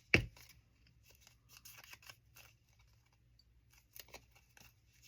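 Scissors trim a paper insert for a linen journal in a few light snips, with soft paper handling between the cuts, quiet and close.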